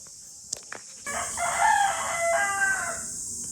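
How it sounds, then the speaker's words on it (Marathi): A rooster crows once in a long, wavering call, fairly close and clear over a steady background hiss. "कोंबडा विंबडा आरावता."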